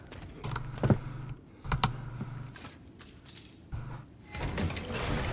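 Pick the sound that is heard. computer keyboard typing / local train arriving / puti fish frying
computer keyboard typing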